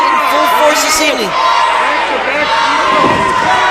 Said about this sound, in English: the seas of the crowd once again getting behind Brodie Lee